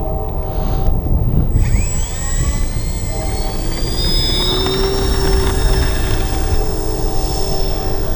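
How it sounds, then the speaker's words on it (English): An RC model OV-10 Bronco's engines roar loud and close during takeoff, a steady high whine that rises in pitch as power comes up, under constant wind noise. "we're actually going to take off this way now."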